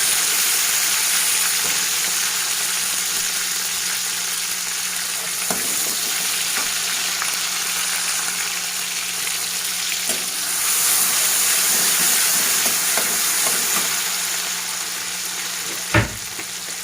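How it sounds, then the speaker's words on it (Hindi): Chillies and vegetables lightly frying in a pan for Sindhi vegetable kadhi, a loud, continuous close hiss of sizzling oil with a few faint clinks and a sharp utensil knock near the end. "ये हल्का सा फ्राई हो जाए।"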